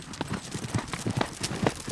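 Horses loping on a ranch trail ride, with repeated hoofbeats thudding in a quick, rolling three-beat rhythm close by, steady throughout with no talk.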